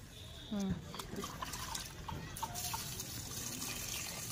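Water pouring and splashing onto garden plants and soil nearby, a soft trickling flow, with a person speaking quietly over it.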